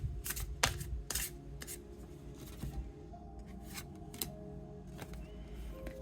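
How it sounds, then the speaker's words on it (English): Oracle cards are shuffled and drawn in a quiet room, with soft riffling bursts and brief flicks scattered through the stretch and a low hum underneath. "Let's pick some cards and see what we get today."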